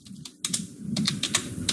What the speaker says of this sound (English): Is that you typing? What are you typing? Yes, I'm typing out next year's schedule.